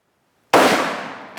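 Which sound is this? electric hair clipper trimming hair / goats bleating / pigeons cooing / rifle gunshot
rifle gunshot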